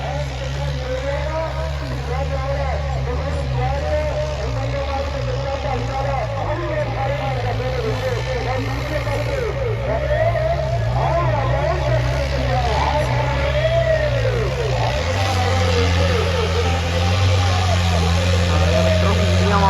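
A heavy tractor engine labours while pulling a loaded trolley at a rural tractor-pull contest in Nandpur Kalour, Fatehgarh Sahib, its deep steady drone rising in pitch near the end, with a crowd and voices talking over it throughout.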